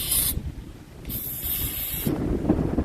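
Compressed air hisses in two sharp bursts, loud and close, blowing grease out of a bearing being repacked, separated by a pause, over a low rumbling background.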